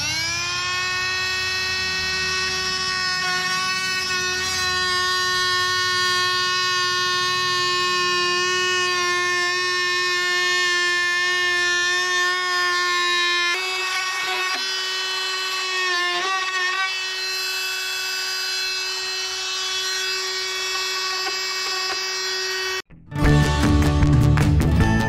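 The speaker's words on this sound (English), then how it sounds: "take my favorite saw, my oscillating saw," An oscillating saw cuts a notch in a wooden board during a Victorian house restoration, a loud, steady high-pitched buzzing whine that holds for over twenty seconds before cutting off abruptly.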